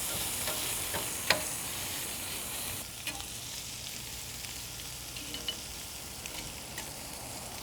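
Steak and vegetables for fajitas sizzling on a grill, a steady close hiss with a few sharp pops, slightly quieter after a few seconds, no voices.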